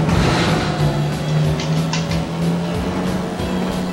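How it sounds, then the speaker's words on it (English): A car in The Dukes of Hazzard video game drives fast with a steady, loud engine drone and faint tire noise throughout, with no talking. "This car goes pretty fast, though."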